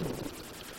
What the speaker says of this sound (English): The sound effects are okay, it's a nice helicopter sound.